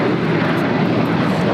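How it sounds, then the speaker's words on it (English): A Boeing 777 freighter taking off at LAX, a loud, steady roar of jet engines filling the moment with broad rumbling power, no voices over it. "Next takeoff is that 777 freighter."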